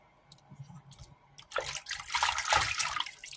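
Wild mushrooms being rinsed in water, with soft splashing that swells into a louder, sustained wash of sloshing water partway through, close by and with no talk.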